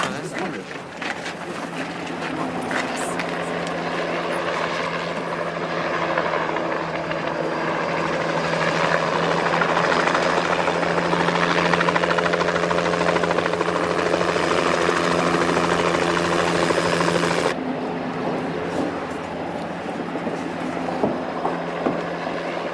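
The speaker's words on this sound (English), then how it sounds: "Bell 206B Jet Ranger." A Bell 206B JetRanger helicopter drones steadily nearby, its turbine whine and rotor thrum holding a constant loud hum that cuts off abruptly near the end.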